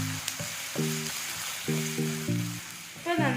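Sliced onions frying with a little salt in a pan for prawn biryani give off a steady, close sizzle, overlaid by short, intermittent tonal notes.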